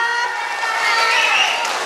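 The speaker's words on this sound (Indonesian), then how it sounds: "Tepuk tangan warna baju" A dense, steady wash of audience clapping at a live show in Bali stays close and loud for the whole stretch, with voices shouting and cheering mixed into the noise.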